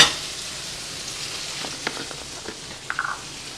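Asparagus browns in a pot, making a steady, fairly loud sizzle with a few light stirring taps near the end, no voices.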